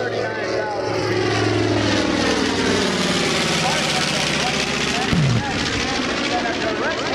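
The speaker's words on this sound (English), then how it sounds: "And a direct hit by Roger Crawford and the Yankee Air Force B-25" A B-25 Mitchell bomber drones overhead at the Cleveland National Airshow with a loud, continuous propeller-engine roar whose pitch shifts as it passes. An announcer speaks over the PA throughout.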